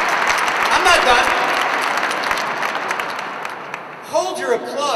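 An audience at a 69th Infantry gathering applauds loudly and steadily, the clapping tapering off as voices come in toward the end.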